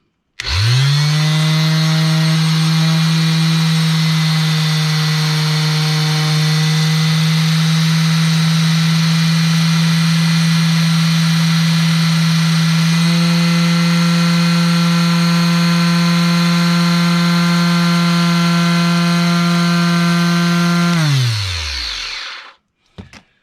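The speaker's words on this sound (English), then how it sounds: "That way you're also not tearing up your orbital hand sander in the event you ever wanted to use it as a sander." A steady, loud electric whine and buzzing drone from an orbital hand sander used as a homemade paint shaker, running continuously with a slight pitch shift midway before winding down and stopping.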